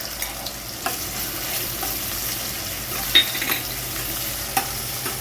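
Ginger, garlic, green chili and coriander paste fries in a pan with a steady low sizzle, broken by occasional scraping stirs and small clicks, heard alone without speech.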